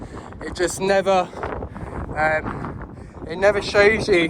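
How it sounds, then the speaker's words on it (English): Strong outdoor wind buffets and rumbles under a person talking, with gusts swelling in the background throughout. "It's so windy."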